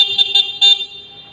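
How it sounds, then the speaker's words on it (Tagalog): A single short electric bike horn beep, high and steady with a slight pulsing, close and loud, fading out at the end. "Yung horn natin"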